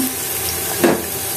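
Onion and garlic dropped into hot oil in a cooking pot, giving one short burst of sizzling near the middle over a steady low background hiss.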